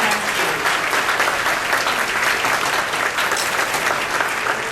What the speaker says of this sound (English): So I'd like to give another round of applause for Dr. Lisa Hemke.